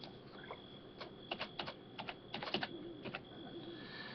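Quiet, close computer keyboard typing in short irregular clusters of light clicking keystrokes, faint and alone, with a soft background hum and no one speaking.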